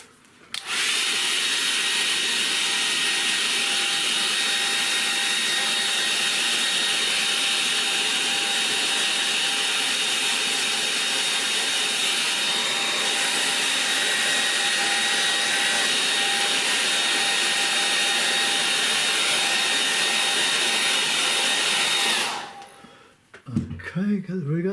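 A hair dryer drying a watercolour painting, a steady close whine and rush of air running for over twenty seconds before switching off.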